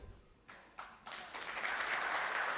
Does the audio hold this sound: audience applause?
yes